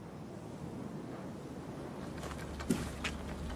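Steady coastal wind in the Marquenterre, on the Picardy coast of France, buffets the microphone in a low, continuous rumble, with a couple of brief louder gusts near the end.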